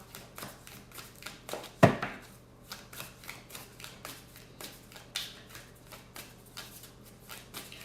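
Tarot cards being shuffled by hand, a steady series of soft, close riffling and tapping strokes with one sharper knock early on, quiet and with no talking.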